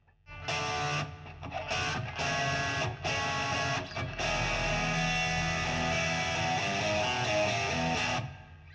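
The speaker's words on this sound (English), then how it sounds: "The other channel is the Overdrive Channel" Overdriven electric guitar plays loud, gritty chords with brief choppy stops, then a sustained distorted passage that cuts off.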